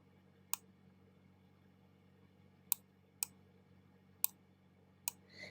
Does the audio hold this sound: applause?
no